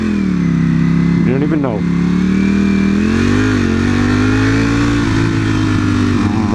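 A Corvette engine revs loud and close, its deep throaty roar climbing and holding with a brief sharp blip early on, while someone talks over it.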